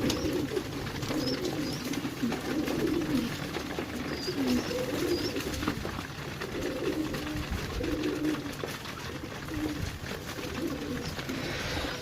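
Pigeons coo repeatedly while eating grain, low soft rolling calls from several birds close by over a constant background hum, with no talk.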